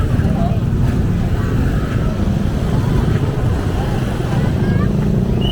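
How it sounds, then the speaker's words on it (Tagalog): Sunday street traffic near a meat market in the Philippines, a steady loud rumble of passing cars and engines throughout, with people talking over it. "Ayun, traffic mga kaibigan."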